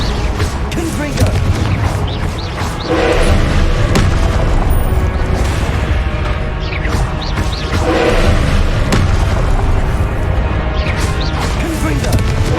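Repeated booming blasts of the Confringo explosive spell in Hogwarts Legacy, a fantasy combat game played on hard mode, loud and dense over a busy battle mix with occasional voice shouts.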